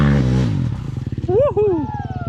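Motorcycle engine revving while riding on a training day, a steady pulsing drone that rises and falls, preceded by talk and overlapped by a rising whoop-like voice.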